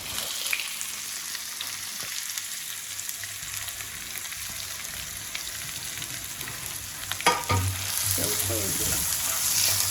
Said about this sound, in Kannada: ಟ್ರಾನ್ಸ್ಪರೆಂಟ್ ಆಗತ್ತಪ್ಪ, ಸ್ವಲ್ಪ ಫ್ರೈ ಮಾಡಿ.